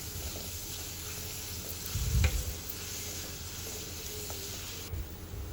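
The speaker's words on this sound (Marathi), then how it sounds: "ते दोन मोठे कांदे चिरून घेतलेले आहेत ते या तेलामध्ये टाकून कांदा थोडा लालसर होईपर्यंत शिजवून घ्यायचा आहे" Chopped onions frying in oil in a kadhai for prawn masala, a steady soft sizzle with a brief louder stir or clatter in the middle, close and without voices.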